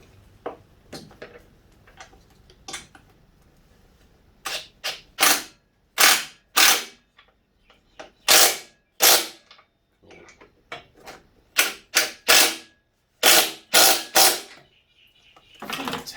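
Ratchet tightening front and rear mudguard bolts during a mudguard replacement, heard as bursts of sharp metallic clicking, loud and close, repeating in short runs with pauses between them and no talking.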